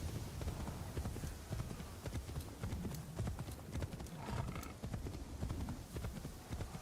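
Hooves of a demon horse in a video game clip-clop in a steady, brisk rhythm, fairly faint and continuous throughout, with soft ambient game sound underneath.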